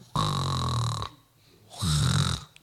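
A voice imitates loud snoring, two long rasping snore-like breaths separated by a short pause, close and loud.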